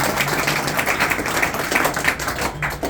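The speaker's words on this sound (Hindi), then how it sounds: "फारूक भाई के लिए एक जोरदार तालियां दिल से" An audience claps for a guest at a community gathering, a fairly busy, uneven patter of hands lasting a few seconds with no voices over it.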